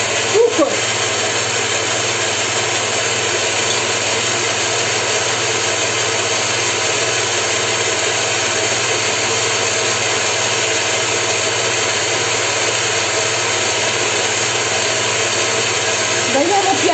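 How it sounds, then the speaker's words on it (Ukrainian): An electric mixer whips egg whites to a foam for an old-style layered cake, its motor whirring steadily and loudly without a break. "Збиваємо спочатку до піни білки, поступово будемо додавати."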